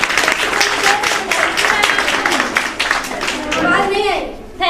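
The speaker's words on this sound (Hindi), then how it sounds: "जोरदार तालियां।" Applause for schoolgirls at a math and science club event at a girls' inter college, a dense burst of hand clapping from a nearby crowd with children's voices and talk mixed in throughout.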